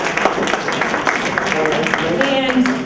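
A crowd at a teachers' union representative council meeting claps for the bylaws committee chair, a dense patter of applause running the full length, close and fairly loud, with voices talking over it.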